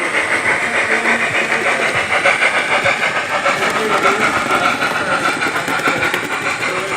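A model railway train, class 210A with wagons, runs on a layout at the Redditch model railway show 2023, giving a steady, close whirring rumble with a continuous hiss that holds evenly for several seconds.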